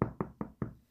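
Four sharp knocks on a door in a quick, steady rhythm, each with a short low thud and brief decay, fairly close and alone with no voices.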